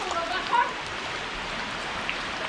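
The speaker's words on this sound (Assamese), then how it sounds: "বৰষুণ এৰা নাই, পানী প্ৰচণ্ড গতিত বাঢ়ি আছে।" Heavy non-stop rain falls during a flood of the Sesa River in Assam, a constant broadband hiss with faint scattered drops and no clear talk.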